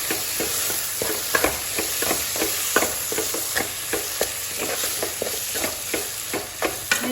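Tomatoes sautéing in a pan for bread chili, with a steady loud sizzle and rapid repeated scraping stir strokes throughout, close up.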